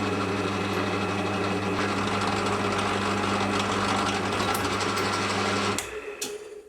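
A lathe single-point cutting an M22 x 2 thread runs as a steady, close mechanical hum with a high whine for most of the time. It drops away near the end, leaving a couple of brief clicks.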